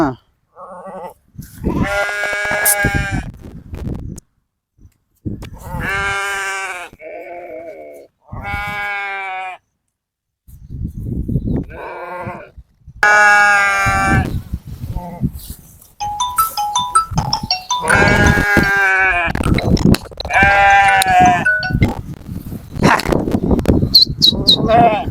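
Sheep and newborn lambs bleating repeatedly at close range, loud wavering cries in overlapping bursts separated by short pauses.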